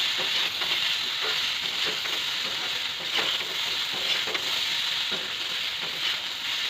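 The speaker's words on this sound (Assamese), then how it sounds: "এতিয়া আমি এইখিনি ভালদৰে এবাৰ আৰু লৰাই দিম, মছলাখিনি যাতে লাগি যায় সকলোখিনি আলুৰ লগত।" Boiled potatoes with spices being stirred in a pan for samosa filling, giving a soft steady sizzle with faint scraping strokes against the pan, close and continuous with no talking.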